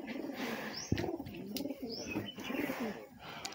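Pigeons pecking scattered grain in the morning, giving soft, rounded coos close by along with a few faint chirps and a brief thump, all fairly quiet.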